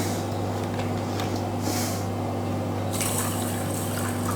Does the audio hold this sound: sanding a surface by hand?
no